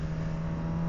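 A 2026 Suzuki GSX-R1000R sport motorcycle engine holds a loud, steady, close-up drone with a strong low hum throughout, and no one speaks.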